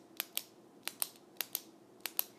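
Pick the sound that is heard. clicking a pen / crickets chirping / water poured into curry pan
clicking a pen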